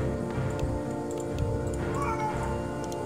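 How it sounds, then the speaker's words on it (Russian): Cats in the Warcraft 3 video game meow and caterwaul repeatedly over a dense, steady game soundscape, a few drawn-out cries standing out close and clear. "Да, кошки, ё-моё!"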